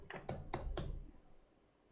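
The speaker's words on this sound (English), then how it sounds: "I'm gonna first type very fast" Fast typing on a computer keyboard, a dense burst of rapid key clatter in the first second before it trails off into quiet, close and soft.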